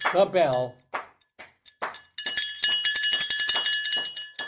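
A bright metallic bell rings rapidly and repeatedly for a couple of seconds, following a few spoken words and small knocks.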